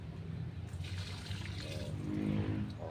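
Taro stalks being washed by hand in water, with steady splashing, trickling and sloshing close by, louder toward the end, and no voices.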